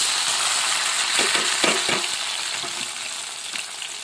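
Tomatoes and onions frying in hot oil for brinjal curry, a steady close crackling sizzle with a few clinks and scrapes of a spoon stirring through the pan; no talking.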